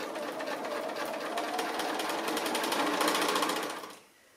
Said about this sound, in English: then I can just machine stitch that down.